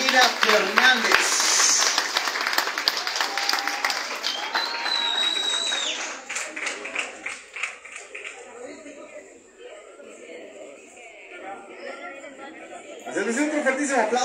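At a recognition ceremony for neighborhood committees in Otay Centenario, an audience claps mixed with crowd chatter for several seconds, then the clapping fades into murmuring talk and a voice speaks near the end.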